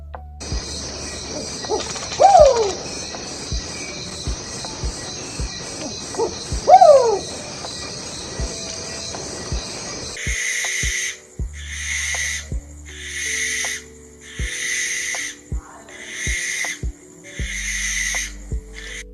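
Recorded owl calls comparing a true owl with a barn owl: two distinct descending hooting calls spaced apart, then a series of rhythmic repeated calls in regular pulses.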